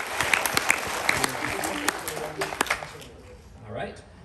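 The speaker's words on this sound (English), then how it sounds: "How about a round of applause for everyone that made this happen?" An audience claps at a gospel and bluegrass festival held by a fire company, scattered sharp claps over crowd noise that thin out and fade toward the end, with a voice speaking near the close.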